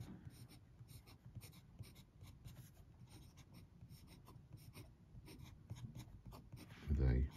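A Faber-Castell fountain pen with a broad steel nib, dapple grey body, scratches across paper in quick, close strokes and short bursts, quiet and steady, ending in a louder rustle or knock.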